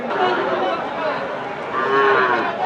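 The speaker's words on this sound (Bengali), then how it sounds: "এই যে গরুগুলো আমরা দেখি প্রায় সেম কোয়ালিটি" Cattle moo repeatedly at a large livestock market of thin, bony cows, the long harmonic calls overlapping loudly and steadily with busy crowd murmur beneath.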